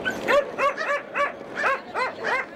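Dogs at a dog shelter bark and yelp repeatedly in a quick rhythmic series of about eight sharp, high barks, loud and close, with no other sound between them.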